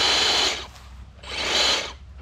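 Kobalt 24V cordless chainsaw for cutting briars revving in two short bursts, a loud close whine that drops away between pulls of the trigger.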